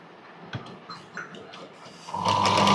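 A sewing machine stitching the side seams of a small child's frock starts up after a couple of seconds of quiet fabric handling, then runs as a loud, steady, fast mechanical whir through the end.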